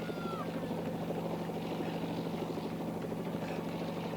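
A helicopter filming the leaders of the 1985 London Marathon makes a constant, dense rotor and engine roar that fills the whole stretch at an even level.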